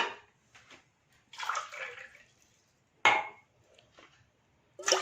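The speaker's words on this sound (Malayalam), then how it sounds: "അപ്പോൾ അതിനകത്തോട്ട് നമുക്ക് 2 ഗ്ലാസ് വെള്ളം ഒഴിച്ചു കൊടുക്കാം." Water poured in short bursts from a glass into a tea-boiling pot holding crushed ginger, three separate splashy pours with quiet gaps between, close and fairly soft, no talking.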